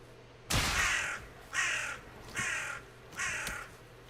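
Four loud, harsh crow caws about a second apart, from crows in the Valheim video game, with quiet game ambience in the gaps.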